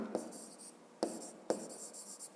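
Handwriting on paper while working out a 7th-grade physics exercise: three sharp taps of a pen touching down, each followed by a soft scratching stroke. The sound is close and quiet, with no talking.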